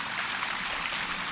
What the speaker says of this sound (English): we're gonna go ahead and backwash this filter just to make sure it's clean and everything's running properly